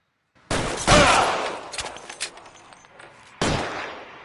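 Sharp gunshots ring out in the crime game L.A. Noire, with two close, loud cracks followed by scattered echoing reports, then a pause before one more shot.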